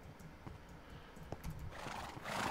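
A donkey brays in Minecraft amid low, busy game ambience, the cries faint and broken up before a louder rushing swell near the end.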